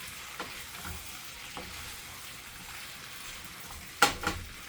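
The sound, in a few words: stirring potatoes in a sizzling pan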